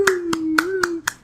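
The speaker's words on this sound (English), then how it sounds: "Let's clap it up." A small group clapping at a lighting critique of animated art, five sharp claps spaced evenly over a steady sustained tone, close and fairly loud.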